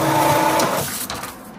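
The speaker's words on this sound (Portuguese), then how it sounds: "a impressora já está a funcionar." A newly assembled home printer runs with a mechanical whir and a tonal hum, then winds down and fades near the end.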